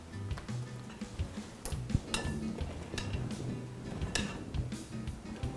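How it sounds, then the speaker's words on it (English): A spoon stirring cornbread batter of flour and butter in a bowl, with steady scraping and light ticking clinks against the dish, close and without talk. "just take your spoon and work in the mixture"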